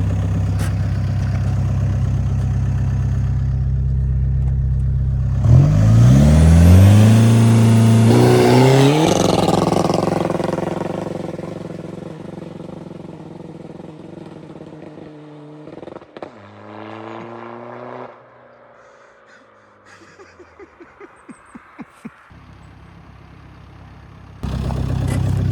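A car, either a Skoda Fabia vRS or a BMW M3, makes a 0-60 launch: the engine roars up hard through the gears, then fades to rumbles, crackles and quieter engine sounds before a final burst.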